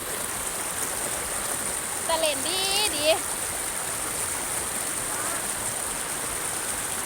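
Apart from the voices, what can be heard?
stream flowing at waterfall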